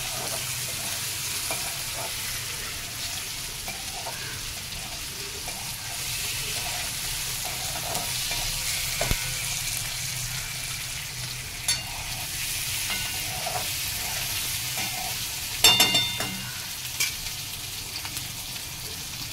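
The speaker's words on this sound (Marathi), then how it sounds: "आणि थोडं तेलामध्ये परतून घ्यायचं।" Mackerel pieces fry in hot oil for a Goan uddamethi, a steady close sizzle running throughout, with occasional spoon scrapes and clinks as the fish is stirred and no voices.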